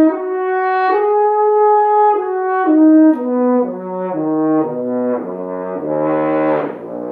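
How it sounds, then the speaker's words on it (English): A French horn plays clear, sustained arpeggio notes close up and alone. The notes step steadily through its range, moving lower, then climb again near the end. "I'll typically go and start playing some arpeggios"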